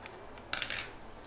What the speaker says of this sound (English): I'm going to come back with scissors and we're just going to cut into our dough